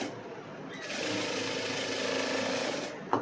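A sewing machine runs steadily while stitching a cross-cut blouse, a close, continuous mechanical whir lasting a few seconds with no talking.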